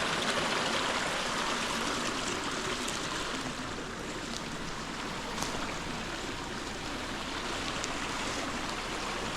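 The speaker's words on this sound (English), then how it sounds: "water just coming right out of the ground" Water runs continuously from a spring out of the ground on a washed-out Kentucky property, a steady broadband rushing and trickling close by, with no talking.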